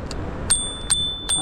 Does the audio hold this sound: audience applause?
no